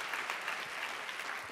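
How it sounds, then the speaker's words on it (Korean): Church congregation clapping together at a Korean worship service, a dense, steady wash of many hands filling the room evenly from start to finish with no voices above it. "다시 한번 우리 박수하겠습니다."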